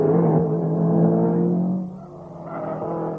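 An Audi race car sliding on a circuit, its engine droning loudly with shifting pitch as it skids, then easing off and picking up again, no talking.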